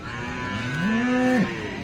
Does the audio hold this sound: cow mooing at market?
yes